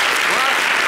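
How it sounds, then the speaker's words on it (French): Audience at a French-language comedy show applauding: dense, loud, steady clapping from a crowd, close and filling the whole short moment. "Est-ce qu'on peut s'applaudir?"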